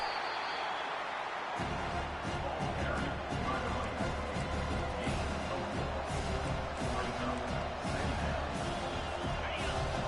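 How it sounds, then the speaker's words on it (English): A large college football stadium crowd roars steadily, trying to help its defense, swelling into a loud, sustained din with a commentator-like voice faintly beneath it. "It is getting loud as this crowd tries to help its defense."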